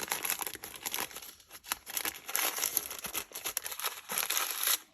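Paper crinkling and rustling up close as a sheet is folded into a piping bag for hot cross buns, a continuous papery crumple with quick sharp creases.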